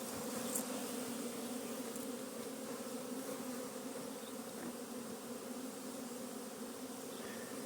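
Honeybees fly around the hives at an apiary, filling the air with a steady, even buzzing hum at moderate distance and no voices.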